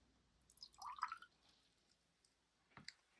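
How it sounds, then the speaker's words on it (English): Clean water drips into a jar of Stockmar and Cotman watercolour paint: a few soft, close wet splashes cluster around the first second, with a fainter pair of drips near the end, with no talk. "Put some clean water."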